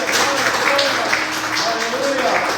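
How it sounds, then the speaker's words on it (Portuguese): A church congregation applauding during a worship gathering, a steady wash of many hands clapping at close range. A voice speaks over the applause throughout. "Dê uma salva de palmas ao nosso Deus"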